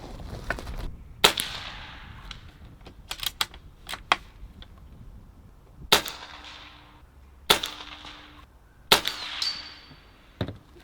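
A Barra 250z air rifle fires several sharp, close shots at cinder blocks and golf tees outdoors, each crack standing alone with pauses in between and a faint impact after some, with no talking.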